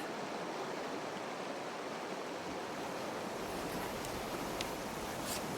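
A Colorado river rushes in a continuous, dense wash of water, close and steady with no voices, and a few faint high splashes toward the end.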